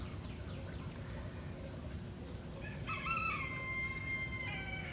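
A rooster crows loudly, its call rising and stretching over the last two seconds on a farm where chickens perch along a fence by deep woods, with faint clucking and a steady outdoor hum underneath.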